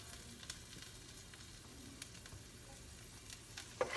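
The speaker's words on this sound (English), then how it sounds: "We're gonna let that oil heat up." Oil heating in a frying pan while making chicken fried rice gives a steady, faint sizzle with light crackles throughout, and one sharper pop near the end.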